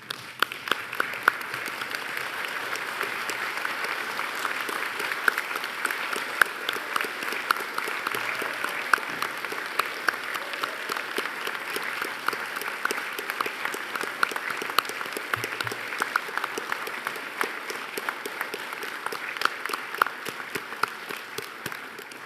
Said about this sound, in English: stand and join me in applauding their wonderful success